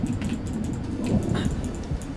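A dog in the survival game ICARUS whimpers and yips close by in short bursts over a low rumbling game backdrop.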